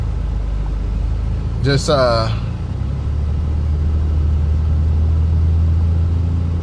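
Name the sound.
Nissan Stagea 260RS car driving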